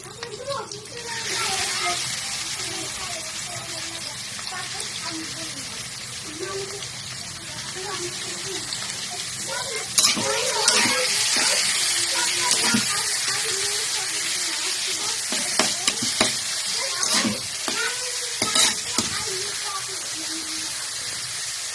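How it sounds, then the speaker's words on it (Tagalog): Meat sautéing in a pan gives a steady, close hiss and sizzle, with sharper clatters of stirring and scraping growing busier in the second half. "Igigisa na natin ang karne."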